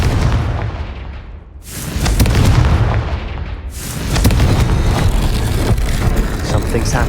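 A Confringo fire spell explodes with a heavy boom in a Harry Potter video game, followed by a second deep blast and rumbling debris, both loud and close with a dense low-end roar.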